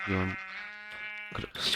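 Sheep bleating in a blocky multiplayer video game, one loud, near bleat at the start, followed by other game sounds and a voice talking over it.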